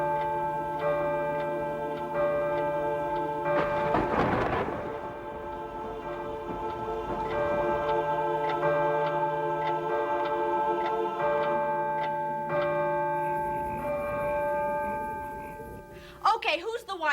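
A clock in a farmhouse ticks steadily at an even pace, close and clear over a sustained tonal drone, with a loud rushing swell partway through and a voice speaking near the end.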